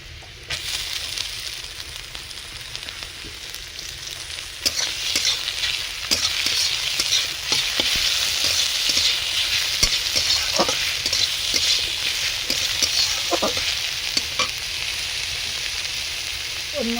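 Malabar spinach greens frying with reddened fried onions in a pan give a steady, close hiss of sizzling, broken by scattered crackles and stirring scrapes throughout.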